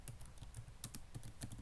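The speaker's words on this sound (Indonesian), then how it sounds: "Ini contohnya Miss Nita mengetik." A computer keyboard is typed on at close range, giving a quiet, irregular run of light key clicks with no voices.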